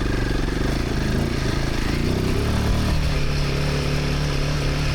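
A Royal Enfield Himalayan 450 motorcycle engine runs loud and close, its throttle opened and the note shifting in a steady drone, with no talk over it.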